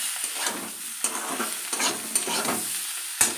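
Eggplant and bitter gourd fry in a pan while a utensil stirs them, with a soft steady sizzle broken by several sharp scraping strokes against the pan.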